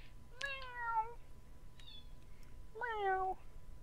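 A cat meows twice, a few seconds apart, faint against a quiet background hum, with a tiny chirp between the two calls.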